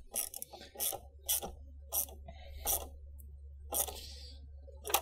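Ratchet wrench snugging down the 12V battery terminal on a Chevy Bolt, with an Ohmmu replacement battery, giving several short, close, crisp bursts of clicking in an uneven rhythm against a quiet hum.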